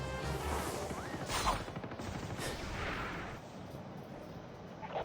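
Rocket launcher fire in the Call of Duty Mobile video game, heard as dense, continuous rattling blasts and bursts of gunfire with a couple of sharper booms, loud and close throughout.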